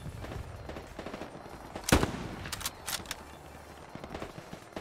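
Sniper rifle gunfire in the World War II shooter Hell Let Loose: one sharp, loud shot stands out near the middle, with a few fainter cracks after it over a busy battlefield background.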